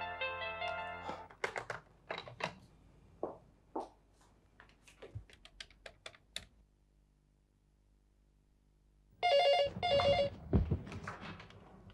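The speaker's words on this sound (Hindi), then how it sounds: "ओ पायल, चलो अच्छा हुआ तुमने फोन उठा लिया।" A landline-style telephone rings in a tense Hindi TV drama scene, a loud burst of repeated electronic ring tones near the end after a stretch of soft clicks and quiet knocks.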